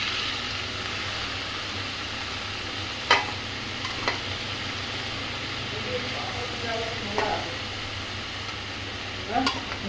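Palak greens frying in a pan with tomatoes, a steady sizzle and hiss broken by occasional scrapes and clinks of stirring, with a voice speaking over it.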